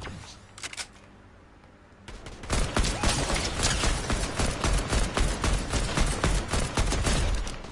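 Rapid gunfire from the video game Fortnite Reload: a few isolated shots, then from about two seconds a dense, loud, continuous burst of rapid shots with many overlapping bangs, no talking.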